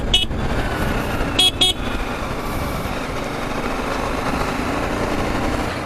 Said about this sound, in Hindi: वो तब भी मेरे को हॉर्न मारे जा रहा है।